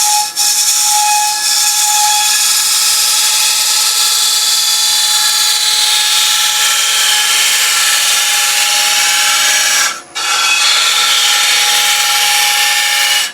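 A wood lathe spins a bowl of soft UK fan palm timber, giving a loud, close, continuous high whine with a steady hiss of cutting. The sound is broken by one brief dip, then runs on unchanged.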